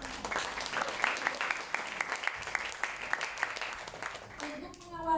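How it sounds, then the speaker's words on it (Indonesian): An audience at a high school event in South Jakarta bursts into applause, a dense, close patter of many hands clapping that rises and trails off, with a voice speaking briefly near the end. "Boleh beri aplaus?"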